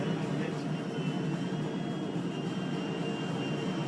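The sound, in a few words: jet aircraft engine in video game GTA V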